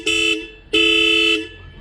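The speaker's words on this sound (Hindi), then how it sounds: "तो ये हॉर्न की आवाज़ कुछ ऐसी है" Two loud honks from the horn of an old-model Royal Enfield Bullet Electra 350 motorcycle converted to Classic 350 styling: a short blast followed by a longer sustained one, close and clear with no talk.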